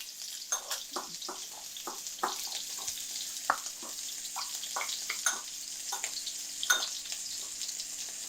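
Carbsmart sticky braai sauce being mixed for basting burgers, a steady run of wet, sticky clicks and squelches at close range with a soft sizzling hiss underneath.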